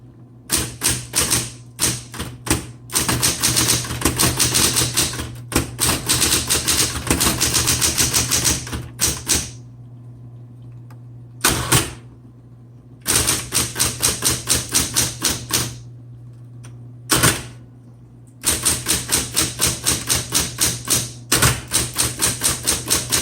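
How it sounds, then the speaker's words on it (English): A 1960s Smith Corona Coronet Auto 10 typewriter is typed on in fast, close, loud bursts of key strikes with a steady hum beneath, broken by short pauses and a few isolated clacks, probably carriage returns. "All right, let's start typing."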